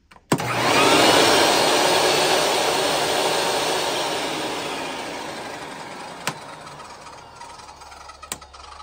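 A SawStop table saw in bypass mode starts up with a sudden loud whine that holds strong, then slowly fades as it runs down, with a couple of sharp clicks near the end and no talk.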